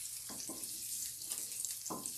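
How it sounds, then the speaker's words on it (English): Chunks of garlic and ginger sauteing in a pan for a beef and cabbage ramen broth, a soft steady sizzle with a few brief louder scrapes or stirs, faint and close, no talking. "Alright, they're sauteing up nicely"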